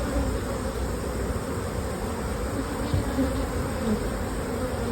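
Honey bees buzzing around an opened hive during a queen inspection, a dense, steady drone swelling slightly at moments, close and continuous with no talking.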